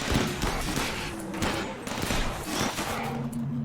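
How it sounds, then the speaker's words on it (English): Autocannon turret gunfire in the video game RimWorld, a steady, dense stream of rapid thudding shots sustained throughout, loud and close with little pause. "You're gonna get yourself shot by an autocannon turret, though."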